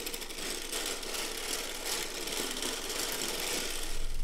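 A hand-cranked circular sock machine knitting rows of yarn, a dense steady mechanical clatter running continuously and close up with no pauses.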